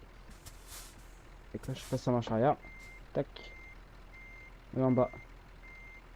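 Reversing alarm of a heavy truck in Euro Truck Simulator beeps in a steady, evenly spaced series of short tones, while someone talks over it in between.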